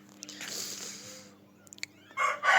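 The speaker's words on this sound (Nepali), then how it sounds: "बिहान बिहान भालेको साउन्ड" A rooster crows in the morning at a hillside village home in Dailekh, Nepal, a faint, somewhat distant call with brief clucks and bird chirps in a quiet setting.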